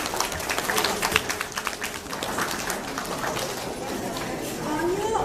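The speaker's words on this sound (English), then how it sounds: "let's give Meredith a round of applause for coming after a surgery on the weekend" At an information session on school magnet programs, an audience claps for a guest named Meredith. Dense, close applause fills the first couple of seconds, then thins into scattered claps and murmuring voices.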